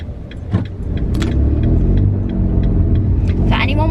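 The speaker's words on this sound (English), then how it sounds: "if you can like hear that power, I've got a Fiat 500." A Fiat 500's engine hums steadily with low rumble as it drives, a few light jingling clicks over the top and a brief rev near the end.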